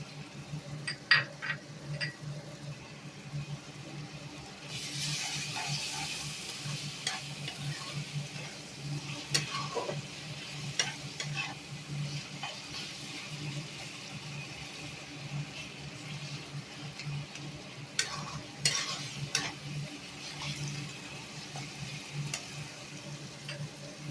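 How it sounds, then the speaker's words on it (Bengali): Ginger paste frying in a pan for dimer polao, a soft continuous sizzle with light scraping and clinks from a stirring spoon and a brighter burst of sizzling partway through, fairly quiet and with no talking. "এবারে আমি এর মধ্যে আদা বাটাটা দিয়ে দিচ্ছি।"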